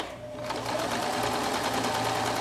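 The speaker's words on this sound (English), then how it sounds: "You're just sewing in a big rectangle." A sewing machine runs steadily, stitching all the way around a fabric rectangle for a tissue holder, a close continuous mechanical whir that starts after a brief pause, with no talking.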